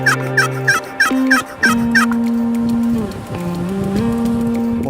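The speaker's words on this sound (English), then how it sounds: "Well, the turkeys are gobbling, they're going down the tree line." Wild turkeys gobble along a tree line on an Illinois morning, with a quick run of loud, rattling gobbles up front followed by sustained tonal calls that carry on in the open air.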